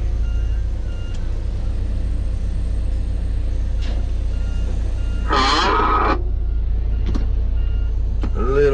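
A logging truck reverses in North Carolina woods, its backup alarm giving a few short, loud beeps over a steady low engine rumble, with a clear tonal burst near the middle and fainter beeps later.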